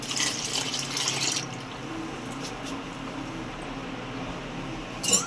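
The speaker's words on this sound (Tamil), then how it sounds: "அப்போ இந்த 2 செம்பில் 2 செம்பு தண்ணி ஊற்றி" Water poured from a small metal vessel into a pot while pearl millet porridge is being made. A bright splash at the start fades into a low trickle, and a short splash comes near the end.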